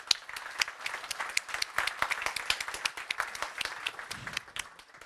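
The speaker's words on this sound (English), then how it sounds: "And another applause." Applause at the 2024 NATO Youth Summit in Stockholm, a crowd of many hands clapping in a busy, crackling patter at moderate distance, steady throughout and easing slightly toward the end.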